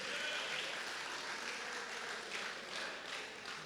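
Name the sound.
audience applause in a church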